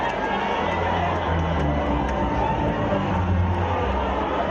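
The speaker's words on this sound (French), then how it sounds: "place au bain de foule" A dense crowd murmurs and cheers steadily close by as the president greets people on a walkabout at the reception for Cameroon's 46th National Unity Day, the broadband roar unbroken throughout with voices mixed in.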